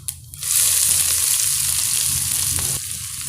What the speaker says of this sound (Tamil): இப்போ நம்ம சோம்பு சேர்த்துடலாம். இப்போ நாம் வெங்காயத்தை சேர்த்துடலாம்.